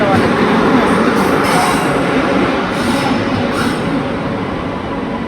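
A loud Coimbatore Express train rolls close by as it arrives at a railway station, with a heavy, continuous rumble and rattling carriages that ease off slightly toward the end.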